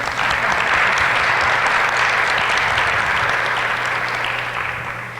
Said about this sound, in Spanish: Les pido un aplauso para ella,